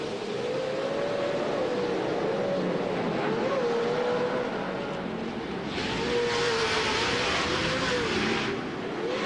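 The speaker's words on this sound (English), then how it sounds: "A great roar of those engines" Race truck engines roar at the start of a 2010 LOORS Pro 2 off-road race in Surprise, Arizona, a loud sustained drone with shifting pitch that swells further partway through.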